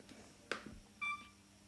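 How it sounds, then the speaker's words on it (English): Camera self-timer beeping before a product-photography test shot: a brief click followed by a short, faint electronic beep, quiet and close in an otherwise still room. "Looks like I left the self-timer on."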